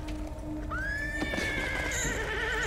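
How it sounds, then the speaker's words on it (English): A horse whinnies loudly with a long rising-then-falling neigh, over a steady background rumble and faint hoof clatter. "Why can he hear horses?"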